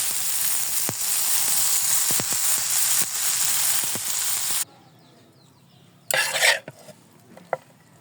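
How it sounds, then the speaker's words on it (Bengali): Chicken noodles sizzling in a pan give a loud, steady hiss broken by soft scraping stirs for about four and a half seconds, then the hiss cuts out, leaving quiet, one brief rush of noise and a couple of light clinks. "নুডলসটা আমি ভালোভাবে নেড়ে ছেড়ে দিয়েছি"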